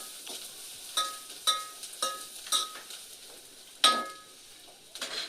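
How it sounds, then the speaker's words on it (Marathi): Chili powder sizzles in hot oil in a pan while a spatula stirs and scrapes it, giving a series of sharp metallic clinks and scrapes over a soft frying hiss, with no talking. "परत त्याला परतून घेते असतं छान पूर्ण एकजीव करून."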